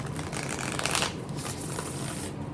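Tarot cards being shuffled in a steady, continuous riffling rush, close and fairly loud, with no talking.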